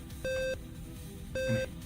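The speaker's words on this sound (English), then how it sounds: "Hear the beep." Two short electronic beeps from a BBC Micro Model B computer's internal speaker, each a clean pure tone of about a third of a second, spaced about a second apart over faint background hum.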